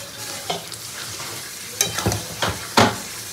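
Meat frying with spices alongside previously fried potatoes in a pan, a continuous close sizzle with a few sharper scraping stirs toward the end.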